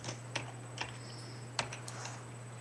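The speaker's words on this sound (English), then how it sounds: "Stop typing." Keyboard typing in a radio interview setting: sparse, irregular key clicks, several distinct taps with light chatter between them, fairly faint over a steady electrical hum.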